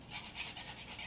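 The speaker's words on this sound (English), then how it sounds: "And then I'm going to add just a touch of freshly grated nutmeg." Fresh nutmeg is grated by hand, a quick run of soft, rhythmic rasping strokes, close and quiet, heard alone for about a second.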